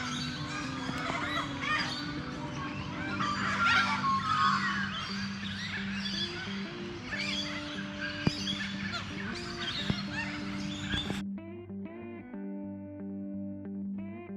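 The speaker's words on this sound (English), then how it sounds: "The corellas and galahs are all staking out nesting hollows" Corellas and galahs squawk harshly while fighting over nesting hollows in Belair National Park, with dense overlapping calls from several birds, loud and near, before the flock noise cuts away to a thinner sustained tonal sound.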